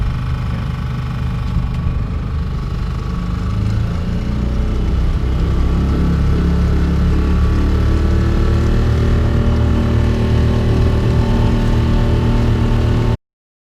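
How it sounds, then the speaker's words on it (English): An outboard motor on a Tanzer 22 sailboat, a loud, steady low engine drone that runs unchanged throughout, with no talking. "let's go ahead and let's use this motor a little bit,"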